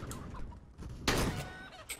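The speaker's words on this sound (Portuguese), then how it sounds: "Eita, matei uma galinha, mano." A chicken in the CS:GO video game gives short clucks in a brief, noisy game scene, with a sharp thump midway and another cluck near the end.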